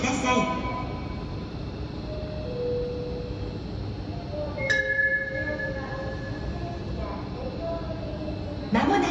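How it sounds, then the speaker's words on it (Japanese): Rail noise rumbles under a station scene at Tsutsujigaoka Station on the Senseki Line, with squealing wheel tones and faint metallic clinks as a train rolls in slowly, and a Japanese public address voice announces the train's arrival at platform 1. "まもなく1番線に列車が参ります。"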